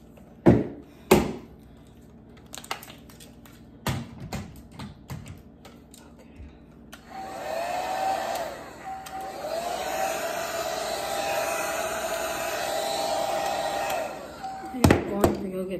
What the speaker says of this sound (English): My blow dryer is trying to take out my eye.